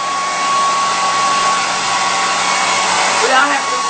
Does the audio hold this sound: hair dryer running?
yes